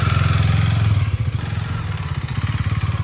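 A motorcycle engine running while riding, loud and close with a throbbing low pulse that dips briefly then chugs on steadily.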